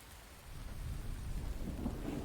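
Steady rain pours in the survival video game The Infected, a continuous broadband wash with low rumbling that swells slightly midway, no voices.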